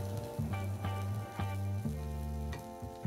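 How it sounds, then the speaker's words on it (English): Red curry paste sizzles and fries in hot coconut oil in a wok over a high flame, a steady close crackle with a few louder stirring scrapes, no voices. "So what I want to do is fry up the paste."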